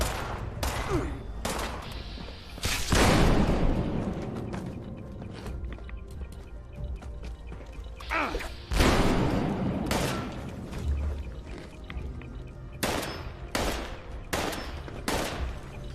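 Enemies shooting guns in Fallout 76: repeated loud gunfire bursts and single cracks with echoing tails, spread irregularly, and a steady game ambience between them.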